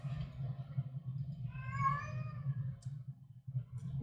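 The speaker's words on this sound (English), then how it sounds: "You hear my son's cats going crazy." Pet cats yowl and meow from behind a shut bedroom door, a muffled, wavering cry over a steady low hum, moderately faint and somewhat distant.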